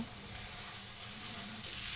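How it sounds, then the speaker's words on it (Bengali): Pulao rice being fried in spice masala, a dense continuous sizzle with stirring noise, close and steady, rising slightly at the end, no voices. "আমি এটা 10-15 মিনিটের মতো একটু ভেজে নেব,"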